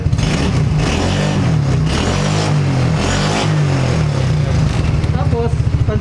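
An ATV or UTV engine revs loud and close as the gas pedal is pressed, its low throbbing drone rising and falling in steady surges throughout.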